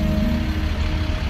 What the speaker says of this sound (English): I hear an old fire truck, Bartley's other little truck.